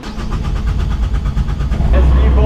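Sailboat engine being started again after an engine failure, a rough mid-pitched mechanical rumble that catches and settles into a steady loud drone near the end, with people talking over it.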